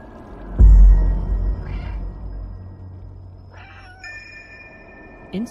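A cat meows in the video game Stray, a single clear call near the start over a low rumble of ambience, followed later by faint electronic tones and a brief soft sound near the end.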